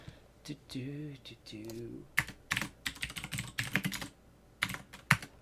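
Typing on a computer keyboard during a Project 1999 Classic EverQuest session: bursts of close, crisp key clatter following a moment of talk at the start, with uneven pauses between the runs of keystrokes.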